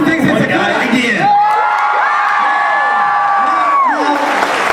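A large convention-hall audience at a VidCon 2010 talk cheers, whoops and shouts in a loud sustained wave of crowd noise that runs the whole clip, with single voices yelling over the mass.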